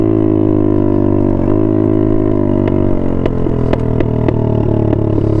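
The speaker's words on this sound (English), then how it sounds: "It's about as loud as this little bike gets." A small dirt bike engine runs steadily at a loud, close idle with a rough, buzzing pulse and slight pitch shifts from light throttle, and no one speaks.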